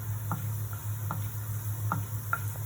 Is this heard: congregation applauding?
no